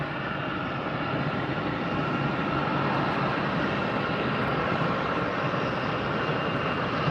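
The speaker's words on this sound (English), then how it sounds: "Thrust reversers easily heard on that 737 from our location." Boeing 737 thrust reversers roar on landing at Tampa airport, a broad steady rumble heard from a distance that holds loud and unbroken throughout.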